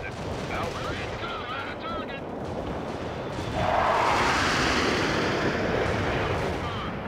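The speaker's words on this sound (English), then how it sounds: "Cluster bombs." Rumbling cluster bomb explosions in the strategy game World in Conflict, a dense wash of blasts and crackling gunfire that swells louder midway and continues as a sustained roar.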